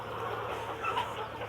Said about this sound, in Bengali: এই দেখেন লেয়ার মুরগিগুলা